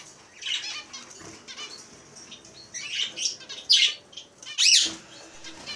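Pet finches flit about inside a cage, wings fluttering in quick bursts between sharp, high chirps that come close and loud toward the end.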